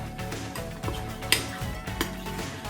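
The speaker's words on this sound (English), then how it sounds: "now I'm going to use a spoon and stir it around because we wanna make sure that all of the eggs get cooked" A spoon stirs an egg mixture inside a mug for a microwave omelet, giving soft scraping and clinking against the mug's sides in a steady close-up rhythm with no voices.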